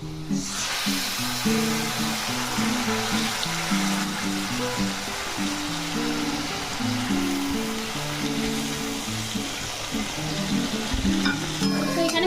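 Spice paste and browned potato pieces fry in a pan, a continuous close sizzle with stirring and scraping that runs steadily for the whole stretch, no voices.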